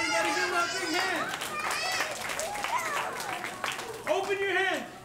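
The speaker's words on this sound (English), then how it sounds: "let's give her a big round of applause, everybody" Guests at a child's first birthday party clap in a short round of applause, mixed with loud chatter and excited children's voices close by.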